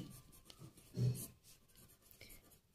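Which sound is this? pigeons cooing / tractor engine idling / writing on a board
writing on a board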